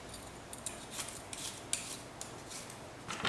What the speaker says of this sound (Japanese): そして生姜も皮を剥きます。